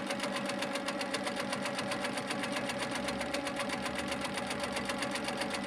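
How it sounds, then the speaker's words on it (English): A sewing machine fitted with a couching foot tacks yarn down onto a quilt, its needle chattering in a fast, even, continuous rhythm, close and loud with no voices. "So as I start stitching, that yarn will just follow, and it tacks that down."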